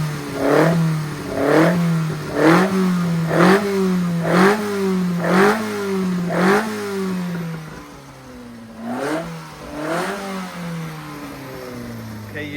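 An engine fitted with rebuilt Weber DCOE carburettors revs repeatedly in quick, rhythmic blips, each rising and falling, close and loud with a fruity, raspy tone, then pauses briefly before more revs.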